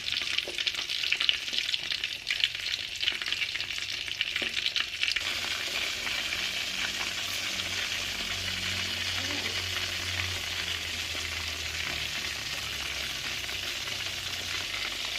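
Loud, steady sizzling of food frying in a hot electric pan, with occasional stirring scrapes early on and a low hum underneath.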